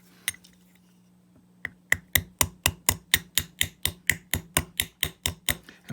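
Hammer strikes on a brass saxophone mouthpiece held on a mini anvil during a brazing repair: one early tap, then a steady run of about seventeen sharp, ringing metallic blows in quick, even rhythm, close and loud over a low hum.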